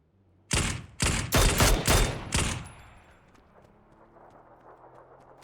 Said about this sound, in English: First shots by the Turkish guys, by the Finnish guys against Schiller.